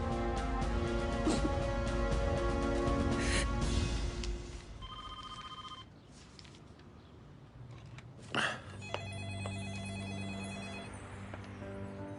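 A telephone bell rings in a tense indoor drama scene, its repeated electronic trills sounding over a sustained musical score, with a brief louder knock partway through and no clear speech.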